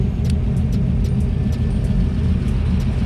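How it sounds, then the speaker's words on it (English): LS-swapped IROC-Z running through a Hooker Blackheart 4-inch muffler, a deep, steady, loud exhaust rumble heard up close without any voices. "that's actually a Hooker Blackheart muffler, 4-inch muffler"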